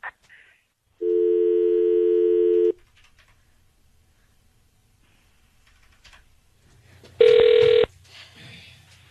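A telephone ringback tone sounds twice, a long steady buzz then a shorter one after a pause, with faint background noise between.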